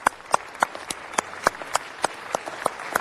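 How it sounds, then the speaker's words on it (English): An audience of seniors at a community anti-scam skit presentation gives scattered applause: a few distinct, fairly close handclaps in an uneven rhythm over about three seconds, with no one speaking. "Let's give them another round of applause."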